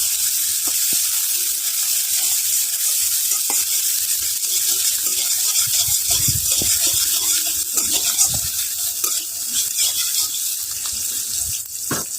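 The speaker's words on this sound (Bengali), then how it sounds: "এই যে তেলটা একটু গরম হয়ে গেলে হালকা পেঁয়াজ আর কাঁচামরিচ গুলো আমি দিয়ে দেবো।" Sliced onions and green chilies frying in hot oil for a Bengali prawn curry, a dense continuous sizzle with occasional stirring clatter, close and fairly loud throughout.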